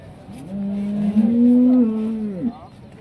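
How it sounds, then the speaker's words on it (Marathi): A Jersey cow at a cattle market gives one long, deep moo close by, rising and holding steady for about two seconds before trailing off. "हातीच्या मापाची गाय मोठलार गाय मस्त"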